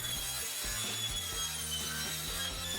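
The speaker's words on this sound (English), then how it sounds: "a cheap carbide blade for a circular saw cuts through this metal like butter" A circular saw fitted with a cheap carbide blade slices through metal roofing panels for a sandbox build. The cut is close and continuous, with a choppy low-end rhythm throughout and no voices.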